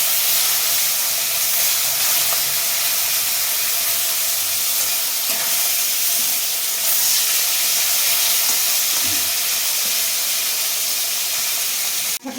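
Koi fish frying in hot oil, a loud, steady sizzling hiss with bubbling and spattering that holds throughout, with a few soft knocks and no talking.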